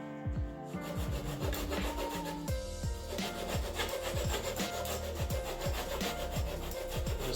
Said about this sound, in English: I'll cut it with a saw first